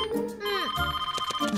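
A telephone rings nearby with a warbling electronic ringtone of repeated tones and falling sweeps, while a voice talks over part of it.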